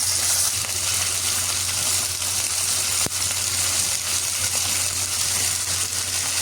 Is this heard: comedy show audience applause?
no